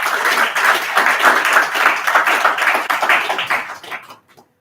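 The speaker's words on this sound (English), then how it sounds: "Can you guys give him a round of applause, please?" Audience at a Congolese community team inauguration gathering breaks into sustained applause, dense clapping that holds steady before tapering off and fading to near silence at the end.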